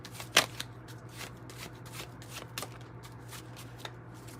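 A deck of 108 Oracle cards is shuffled by hand close up, a sharp riffle followed by soft repeated card slides and flutters over a low steady hum.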